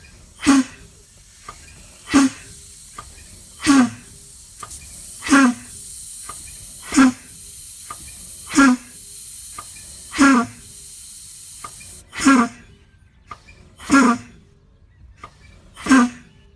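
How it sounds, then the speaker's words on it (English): Spring brake valves on a truck air brake system release air as the brake pedal is pumped slowly: eleven loud, sharp bursts of hissing air at an even rhythm about every 1.5 seconds, close by with no talking. "We're gonna pump the brake pedal until the brake valves pop out"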